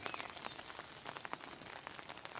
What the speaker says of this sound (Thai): ฝนตกรินๆค่ะ